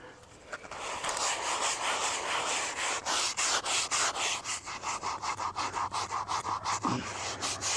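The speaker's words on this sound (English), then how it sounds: "I am going to go on and scrub this again." A 100-year-old marble headstone is scrubbed with a brush, the strokes rasping back and forth in a quick, regular rhythm that grows steadier and more pronounced toward the end, close and loud.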